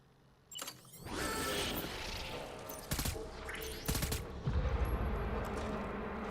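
Gunfire in the Death Stranding video game: a sustained burst of loud, close shots with a few sharp separate cracks rising through it, amid steady game noise and no talking.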